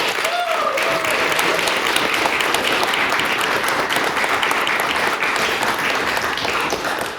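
A debate audience at an intervarsity event breaks into sustained applause, many hands clapping in a thick, steady wash that fades slightly at the end.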